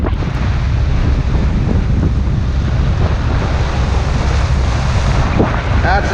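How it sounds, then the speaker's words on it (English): Storm wind roars across a microphone on open water off Florida, mixed with the broad wash of waves and a steady rumble of what may be a boat, loud and continuous for the whole stretch. "That's what they call getting caught by the storm."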